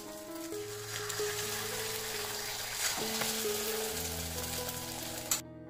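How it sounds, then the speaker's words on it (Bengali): An omelette fries in a pan, giving a continuous even sizzle, close and fairly quiet, with no talking and a brief clatter near the end. "শুধু অমলেটটা করছি।"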